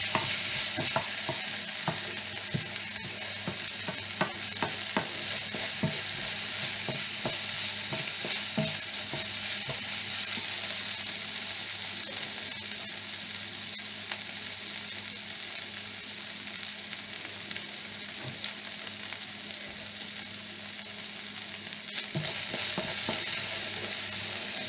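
Round courgettes sizzle and fry steadily in a pan for the whole stretch, with repeated scraping clicks and knocks of a utensil stirring through them, close and fairly loud, with no talking.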